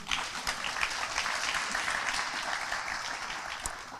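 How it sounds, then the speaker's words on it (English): An audience applauds at a Jimmy Carter Day ceremony in a park, a few seconds of brisk, dense clapping with scattered sharper claps. "please join me in a round of applause."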